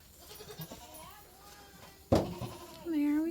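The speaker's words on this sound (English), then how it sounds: "Our herd of goats." Goats in a farm herd bleat outdoors, one sharp call midway followed by a louder, drawn-out bleat near the end over a quiet background.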